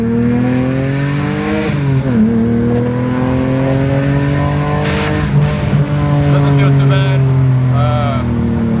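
A 2007 BMW 328i E90 fitted with new BC coilover suspension drives along with a steady, loud engine drone whose pitch rises and falls as it accelerates and shifts, heard from inside the cabin with talking over it.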